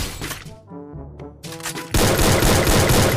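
Rapid automatic gunfire in the Free Fire battle-royale game, loud and close, sounding in bursts with brief gaps before a dense, continuous stream of shots.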